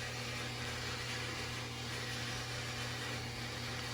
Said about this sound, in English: My refrigerator is a little noisy.